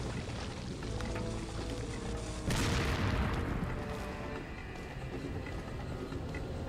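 A rocket launcher's explosion in Resident Evil 4 erupts midway as a single loud broadband blast over constant rain-like background noise, then fades slowly into a hissing rumble.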